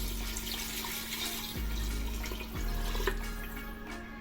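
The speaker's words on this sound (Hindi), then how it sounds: "अब मैं इसमें ऐड करने जा रही हूँ 1 लीटर पानी।" One litre of water being poured into a cooking pot of mutton and potato curry, a steady splashing, trickling pour heard up close and moderately quiet, with a faint electrical hum underneath.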